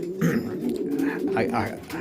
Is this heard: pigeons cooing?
yes